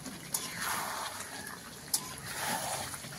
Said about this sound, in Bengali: হয়ে গেছে, এবারে জল দিচ্ছি।